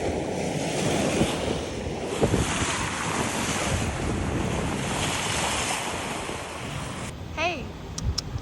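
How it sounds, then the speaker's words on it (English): Strong wind roars across the microphone over steady crashing ocean surf on an Oahu shore, a loud continuous wash with gusty buffeting throughout and no speech. "Tons of wind today."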